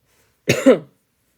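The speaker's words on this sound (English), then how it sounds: "sorry I keep coughing" A single close, sharp cough, loud and alone against silence.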